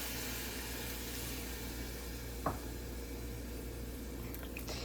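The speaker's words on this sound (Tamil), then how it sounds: "இப்போ புளி தண்ணி சேர்த்துக்கிறோங்க" Tamarind water poured into a sautéed mixture in a pan gives a steady, soft sizzle with one brief splash near the middle.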